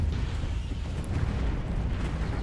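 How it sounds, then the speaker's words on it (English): Explosions in a space battle in the strategy game Stellaris form a dense, continuous low booming rumble, loud and steady without distinct separate blasts. "Look at that. All of these explosions."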